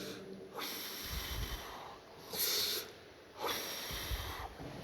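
Three heavy, forceful breaths drawn between close-grip reps during a workout, each a loud hissing rush of air separated by short pauses.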